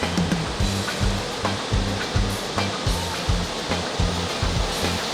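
Waves rolling in at the mouth of the Kedurang river, a steady rushing wash with rhythmic surges roughly every half second to second, close and continuous.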